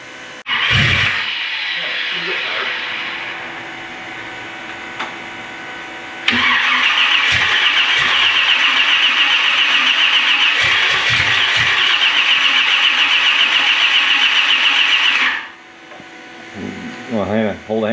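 A 1965 Malibu with a 383 stroker engine cranks and catches for the first time, then settles into a loud, steady running roar before cutting off, with people talking nearby.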